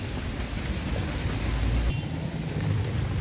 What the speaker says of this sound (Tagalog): Napakaulan na panahon.